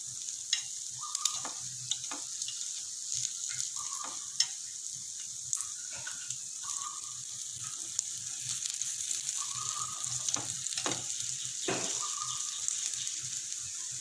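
Wheat banana paniyaram fry in a paniyaram pan on a low flame, giving a steady soft sizzle broken by scattered clicks and scraping taps as the dumplings are turned, with no voices.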